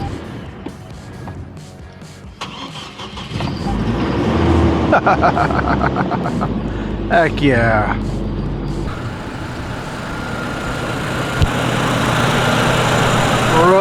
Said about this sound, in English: See if she'll crank.